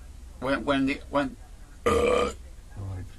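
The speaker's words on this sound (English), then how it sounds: "I'm sorry, I burped." A single loud, drawn-out burp from a man, coming right after a few syllables of his own talk and followed by a quieter murmur.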